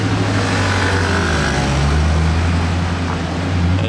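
Grey older-generation Ford GT passing nearby, a loud, steady low engine drone with a slight rise and fall as it goes by, no voices.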